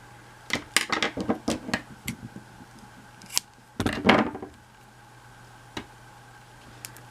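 Scissors snip through yarn fringe on a knitted shawl, a quick run of close, crisp cuts followed by a few more scattered snips and a louder rustling cut near the middle, with no talking.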